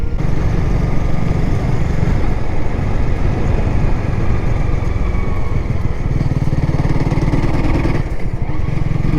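A 2022 Honda Rebel 300 motorcycle revs hard in too low a gear while riding, a loud, close, steady engine drone that dips briefly near the end.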